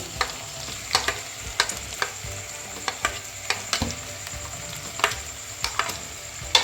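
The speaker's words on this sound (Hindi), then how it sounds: "तो अब मैं इसमें डालूँगी टमाटर।" Tomatoes fry in a hot pan with a soft, steady sizzle over a fried paste, broken by frequent clacks and scrapes of a spoon stirring.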